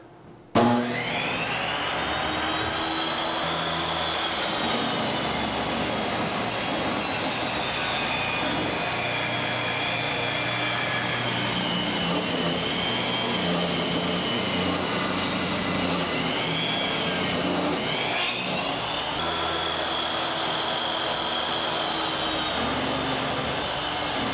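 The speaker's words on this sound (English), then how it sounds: "I'm gonna move my fence, make sure my blade's up, and we're gonna rip this freehand." Table saw ripping a board freehand with the fence moved aside, a loud steady whine and grinding roar running unbroken for over twenty seconds after a brief start, no talk over it.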